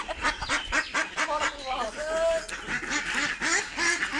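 Many ducks quack on a duck farm, a dense rhythmic chorus of nasal calls close by and loud throughout, with people talking over the flock.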